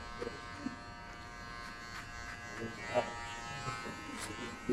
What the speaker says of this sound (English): Listen to your clipper also. When you hear still cutting hair, keep doing it